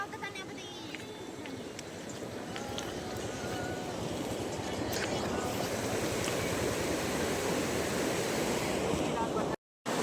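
A river rushes past on a hillside hike, a continuous broadband roar of flowing water, steady and fairly close, with a brief dropout near the end.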